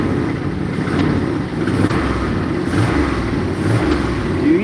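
Car engine running and revving after standing unused for two weeks with a low battery, a loud, steady mid-pitched drone with slight surges in revs, close by and with no talk.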